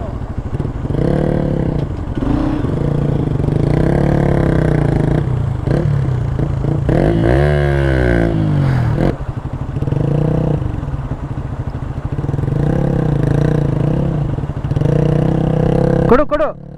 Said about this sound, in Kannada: ಒಂದು ನಿಮಿಷ ನನ್ನ ಗಾಡಿ ಆನ್ ಮಾಡ್ತೇನೆ.